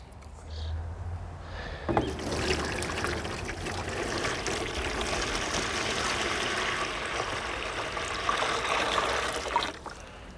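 Water pours steadily into a container for a potted zucchini, watered from the bottom so the soil soaks it up; a continuous splashing, trickling wash runs close and fairly loud for most of the stretch after a brief quiet start.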